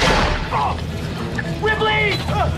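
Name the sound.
gunshots from a film scene, rebel shooting soldiers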